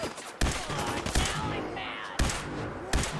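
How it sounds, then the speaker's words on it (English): Video game gunfire in a first-playthrough session with super mutants as targets: dense, loud automatic bursts, broken by a few sharper single reports, filling the whole stretch. "I may have shot Piper in the head there."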